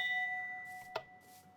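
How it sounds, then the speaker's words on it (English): A high chime-like tone from a Minecraft note block placed on ice sustains and fades, with a short bright ding struck near the middle over quiet background. "If you place it on ice, it creates these sort of chime sounds."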